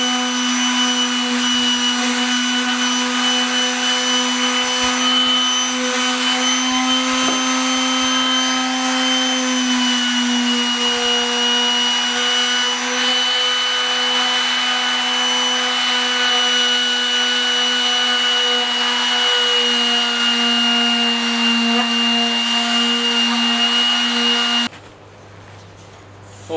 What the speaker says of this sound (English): I'm just going to keep sanding.